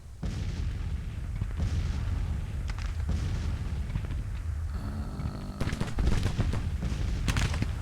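Artillery bombardment in a Civil War strategy video game: a steady rumble of cannon fire with repeated sharp blasts at irregular intervals over several seconds, dense and loud, with a brief lull before a heavier cluster of shots near the end.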